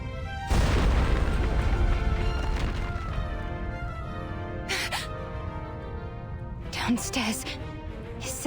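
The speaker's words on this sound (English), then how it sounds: "Is that an explosion?" In the video game Reverse: 1999, an explosion hits sharply with a loud boom, then trails off in a long decaying rumble, followed later by a few faint crashes and thuds.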